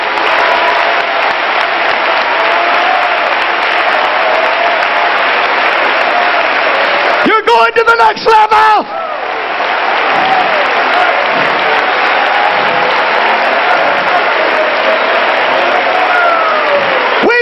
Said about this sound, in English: Clap your hands to him.